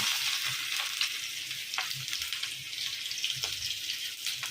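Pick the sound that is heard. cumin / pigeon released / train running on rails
cumin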